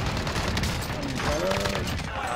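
Rapid enemy gunfire bursts fill a video game firefight, dense and continuous at close range, with players talking over the shooting.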